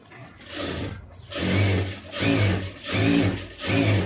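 A sewing machine stitches blouse lining in short bursts, four pulsing runs of motor whir with brief pauses between, close and fairly quiet with no talk.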